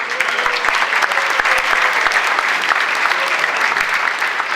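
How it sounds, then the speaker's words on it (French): Sustained audience applause fills the hall at a Paris sommeliers' gala, a dense, steady clatter of many hands clapping throughout with no pauses. "On peut les applaudir."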